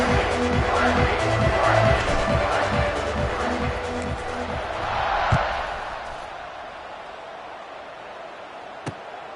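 A football stadium crowd at the USC vs Kentucky game roars at kickoff. A broad, loud wash of cheering and rhythmic drumming swells, then fades to a lower murmur.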